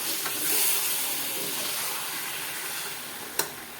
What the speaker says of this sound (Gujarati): હવે આપણે સારી રીતે મિક્સ કરી દઈએ.